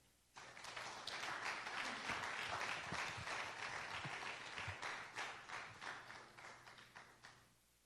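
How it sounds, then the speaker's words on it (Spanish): A church congregation breaks into sustained applause, dense and steady clapping that swells early and then thins into more distinct claps toward the end, with a faint voice briefly under it. "Dale un aplauso al Señor."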